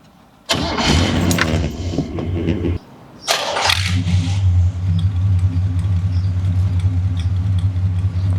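A 1966 Pontiac GTO with Tri-Power carburetion cranks with a starter whir, stalls briefly, then fires and settles into a loud, steady, rumbling V8 idle, recorded close.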